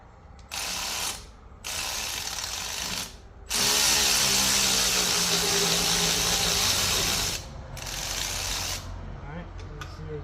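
Hand ratchet loosening the alternator bolts on a 2013 Hyundai Elantra, close-up bursts of rapid clicking separated by short pauses, with one longer sustained run in the middle.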